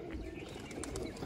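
A domestic pigeon coos softly in a loft, one brief low murmur heard faintly against steady background noise.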